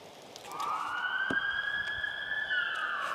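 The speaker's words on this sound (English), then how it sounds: "This is ambulance." An ambulance siren wails in the deserted city of Lugansk, a sustained rising and falling electronic tone at moderate distance, with a short thump early on.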